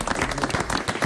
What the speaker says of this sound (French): Applaudissements pour Jean-Paul